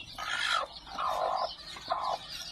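A brooding hen with day-old chicks gives three raspy, drawn-out clucking calls in a row, fairly close, with short pauses between them.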